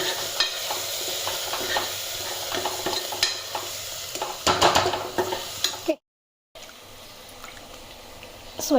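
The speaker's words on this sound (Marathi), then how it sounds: "चला आता सगळे मसाले व्यवस्थित परतवून घेते" Turmeric, whole spices and Kashmiri chilli powder frying in a pan for mutton curry, with a steady close sizzle and repeated stirring scrapes, a short gap of silence, then more sizzling.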